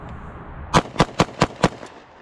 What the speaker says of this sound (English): I'm just going to keep shooting it until we're actually out of ammo